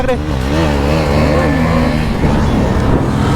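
Motorbikes accelerate hard on a track race during a group ride, engines rising in pitch as they rev up loud and close, with people talking over the roar.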